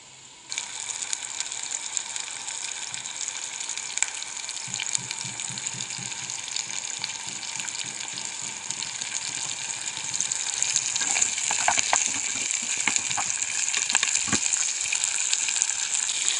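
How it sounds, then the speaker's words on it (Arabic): Onion and garlic frying in oil in a pan give a steady, close sizzle that holds throughout, swelling slightly louder toward the end with a few crackles and spatters; no one speaks. "نحط البصل، نزيد السنه تاع الثوم، نخليها تتقلى شويه"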